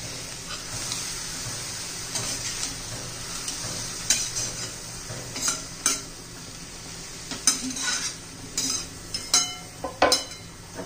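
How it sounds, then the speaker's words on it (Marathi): A cabbage vegetable mix being stirred in a pan, a spatula scraping and clinking against the metal in irregular bursts over a soft, steady sizzle, with no talk. "पुन्हा व्यवस्थित मिक्स करूया"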